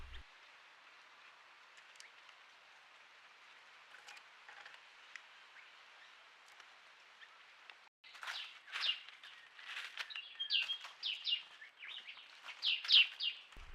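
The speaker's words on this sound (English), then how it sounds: "A lovely lineated barbet." Lineated barbet and other birds calling at Rocky Pool, with a busy burst of loud, repeated chirps and calls in the second half over a steady hiss of background chatter.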